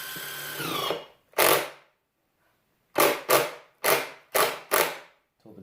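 Power drill driving screws into a simple PVC teardrop camper door, one short whir, a pause, then a quick series of five brief bursts close by with silence in between.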